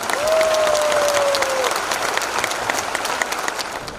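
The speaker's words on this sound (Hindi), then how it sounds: "सबके लिए जबरदस्त ताली" A packed hall audience at a Modicare business presentation gives loud, continuous applause, a dense wash of clapping that holds steady throughout, with a brief tonal whistle early on.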